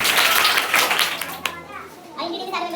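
Children in a classroom clap together in a dense, loud burst, and it fades out quickly. Children's voices chatter afterward.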